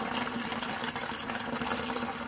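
Water gushing steadily out of a Dodge 360 LA engine during teardown, a continuous close splashing pour with no break.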